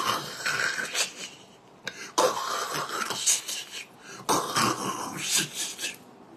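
A man imitates snoring with his voice, making three long raspy, wheezing inhaled snores separated by brief pauses, close and fairly loud.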